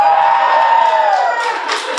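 A comedy-show audience cheers and whoops in response to a comedian's poll, with a loud crowd roar carrying a sustained shouted tone, then scattered claps and yells near the end.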